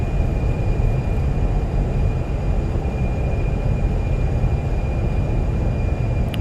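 Airbus A320 landing rollout with thrust reversers in Microsoft Flight Simulator, a loud, dense, steady engine roar with deep rumble, holding constant through the clip.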